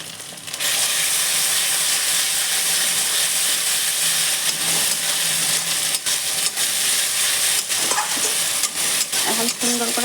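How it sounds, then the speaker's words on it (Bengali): Spices for a Bihari-style mutton curry, with salt and turmeric, sizzle and fry steadily in a pan while being stirred, with a constant loud hiss and occasional scraping knocks of the spoon near the end. "মশলাটা কষে নেব দেখুন"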